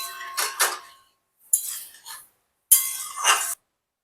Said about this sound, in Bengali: এতে আমি 1 চামচ মতো চিনি দিয়ে দিলাম